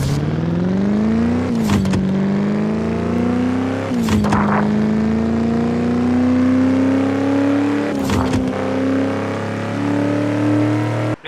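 Racing car in a drag racing video game accelerating hard, its engine whine climbing steadily through each gear, with three abrupt shift breaks, loud and continuous with no talk.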